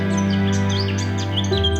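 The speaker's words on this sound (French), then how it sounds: "un chant clair, présent, réel. Un rouge-gorge, juste là sur une branche." A European robin sings on a branch, thin high chirping phrases scattered over a steady low hum, fairly close but not very loud.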